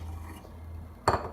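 Utensil clinks against a pot while yogurt goes into mutton karahi over a low flame: one sharp metallic clink near the end, after a second of quiet kitchen background.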